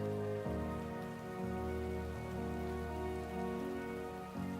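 Timefall rain from Death Stranding 2 pours steadily beneath sustained musical drones, a constant soft hiss of falling drops that never lets up.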